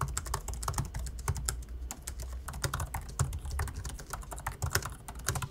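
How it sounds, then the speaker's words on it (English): Fast, continuous typing on the Magic Keyboard of an M2 MacBook Pro 13-inch, a dense run of close, crisp key clicks with no voices. "we still get the same Magic Keyboard as last year, with the same Touch ID fingerprint sensor"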